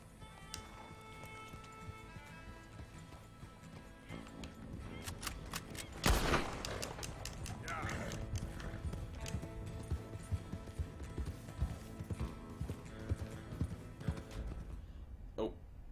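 Horse hooves clip-clop steadily in Red Dead Redemption 2, a continuous trotting rhythm mixed with other game sounds, including a sharp burst near the middle and scattered clicks.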